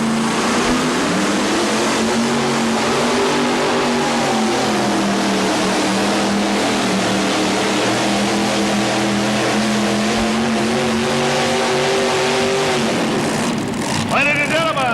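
Power Rod pulling vehicle at a 1987 tractor pull roaring continuously at high RPM, a loud droning engine with shifting pitch over about fifteen seconds, fading as the run ends.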